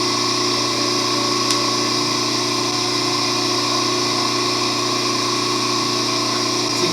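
A mains electric motor, tested with a KAIWEETS HT208D clamp meter at about 36 A starting current, runs with a steady loud hum and whine that holds even and unbroken, with no voices.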